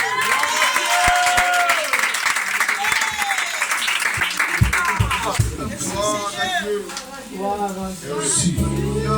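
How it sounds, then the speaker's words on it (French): A church congregation applauds during a worship service, steady clapping from many people mixed with shouts and singing voices that grow more prominent as the clapping continues. "S'il vous plaît, applaudissons la présence de Dieu."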